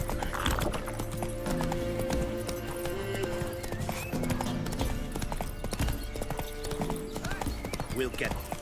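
Hooves clip-clop steadily as horses gallop past in The Witcher 3, with a horse whinnying amid busy game sounds and background music.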